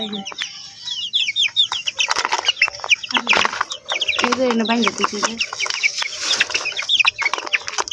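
Several egg-laying hens cluck and squawk nearby in a busy, overlapping chorus, with a brief flutter of wings, while a person speaks over them.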